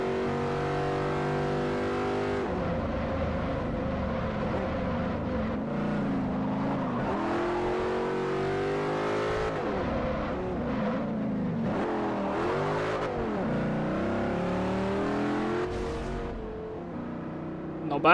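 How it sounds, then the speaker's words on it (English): Audi sedan engine in Forza Motorsport 4 revs hard and shifts repeatedly, the rising and falling pitch sweeping through gears, loud and continuous with no talk over it. "This car has got some power to it."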